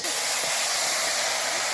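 Duck meat in hot mustard oil in a crowded wok, a loud continuous sizzling hiss that holds steady from start to finish.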